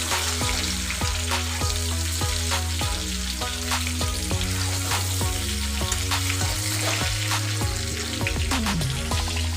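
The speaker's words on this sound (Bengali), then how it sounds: "এদিকে আমি মাংসটা দিবার জন্য আলুটা ভেজে নিচ্ছি।" Potato pieces fry in hot oil in a pan for Bengali mutton and potato curry, giving a steady close crackling sizzle with stirring scrapes and clinks throughout, no voices.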